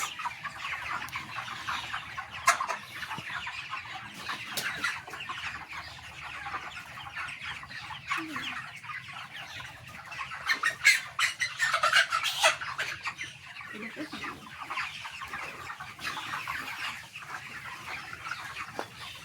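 Chickens on a farm cluck and squawk steadily at moderate distance, many birds overlapping, with a busier cluster of sharper calls near the middle; no talking.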